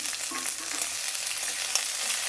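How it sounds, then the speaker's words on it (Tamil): Green chilies and ginger roast in a pan for coconut chutney, producing a continuous, even sizzle that stays at the same level throughout. No voices are heard. "நல்லா ரோஸ்ட் ஆகட்டும்"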